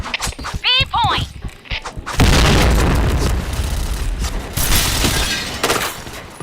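Grenade exploding in a first-person shooter game, a sudden loud boom followed by a sustained rumbling blast and debris, heard after a brief shouted voice and other short game sounds.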